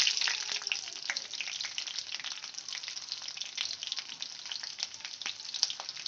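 Black cumin and split green chillies frying in hot oil for a spicy pomfret fish curry, a close, crackling sizzle with frequent sharp pops that keeps going without a break.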